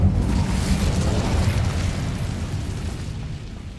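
Incendio fire spell cast in Hogwarts Legacy, a dense roaring burst of flame that fills the whole clip and slowly tapers, with no talking over it.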